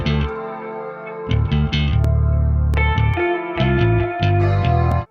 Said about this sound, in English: I'm going to put a tape delay on it as well because that will sound crazy.